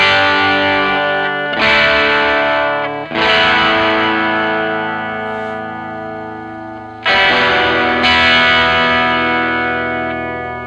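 An electric guitar, a Japanese-made '62 reissue, played through a DIY AstroClone fuzz pedal setup on a slightly gritty near-clean tone. Four loud strummed chords each ring out and slowly decay.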